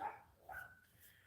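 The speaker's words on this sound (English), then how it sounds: "the neighbor's rat dog is out barking" A neighbor's small rat dog barking outside somewhere off in the distance, a couple of faint, brief yips and barks over a quiet background.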